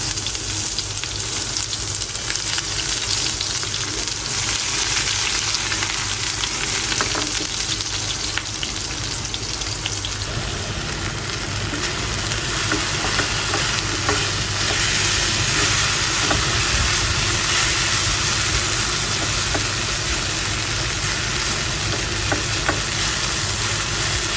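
Steady, loud sizzling of a tempering of dried chilies, garlic and onion frying in hot oil in a pan, a continuous hiss and crackle with no speech throughout.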